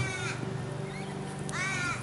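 Crows caw twice in a native backyard garden, each a harsh drawn-out call, clear and fairly close over a soft outdoor background, with no one talking.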